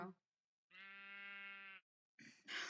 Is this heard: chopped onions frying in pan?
no